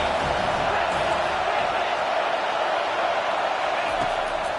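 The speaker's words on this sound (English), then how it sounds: "Decibels rising as the crowd gets behind this defense on third down." A stadium crowd roars steadily and loudly for the defense on a third-down play at a Miami football game, a dense, continuous wall of cheering with no breaks.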